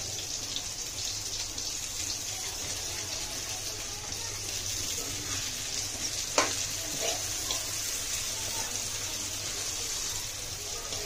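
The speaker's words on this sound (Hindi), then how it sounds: "टमाटर और प्याज को हम सिर्फ हल्का सा नरम करेंगे।" Tomatoes and onions softening in a hot pan give a steady, gentle sizzle, close and fairly quiet, with one brief clink of a utensil partway through.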